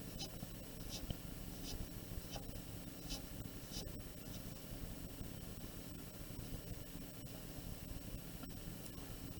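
A pencil sketches a fish scale pattern on paper in short, scratchy strokes, a soft close-up rasp repeating in quick bursts over a faint steady hiss.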